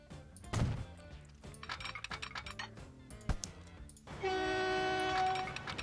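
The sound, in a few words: train running in Transport Fever video game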